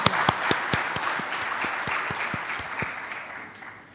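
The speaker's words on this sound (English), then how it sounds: "please give a round of applause to the lady that has brought laurels to this country." An audience at a business convention applauds with sharp, distinct claps standing out over a steady wash of clapping that gradually thins and fades toward the end.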